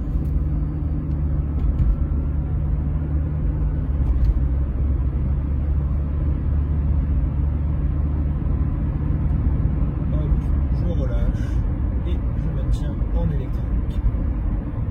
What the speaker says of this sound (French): Je ressors du rond-point, j'accélère